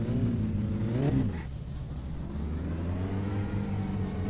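A car engine revs up on a dyno without nitrous in My Summer Car, climbing in pitch, cutting off briefly, then settling into a steady loud mid-pitched drone up close.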